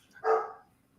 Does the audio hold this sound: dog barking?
yes